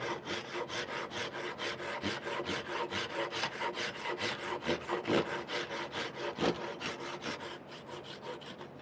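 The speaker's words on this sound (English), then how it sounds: "I'm just gonna saw a little bit off by hand." Hand saw cuts through wood in steady back-and-forth strokes, each rasping pass clearly separated and fairly quiet, with a few heavier strokes partway through.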